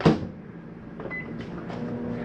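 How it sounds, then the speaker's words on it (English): A microwave oven inside a 2019 Grand Design Solitude 375RES RV gives a sharp clunk of its door, then a quiet hum and a faint, brief tone, close by and without talk. "Self-explanatory microwave."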